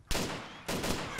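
Gunfire in an island-life video game, two sharp bursts about half a second apart, each starting loud and leaving a long noisy tail, with no talking.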